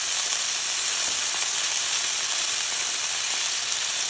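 A ribeye steak sizzles in butter in a hot pan, giving a loud, continuous, crackling hiss that stays even throughout with no talking.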